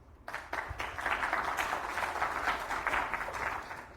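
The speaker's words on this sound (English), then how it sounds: "Please, let's give him some applause." Audience at a tech talk on data for community growth clapping to welcome the next speaker, a modest, steady round of applause from a smallish crowd lasting a few seconds.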